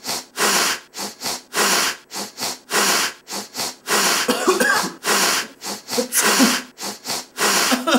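Sniffling and coughing performed as a song, heard as loud, sharp breathy bursts repeating in a quick, steady rhythm for the whole stretch, with no talking.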